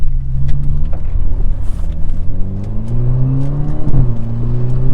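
An all-wheel drive Alfa Romeo Giulia Q4 sliding, its engine droning loud and close as it revs and climbs steadily in pitch, with no talking.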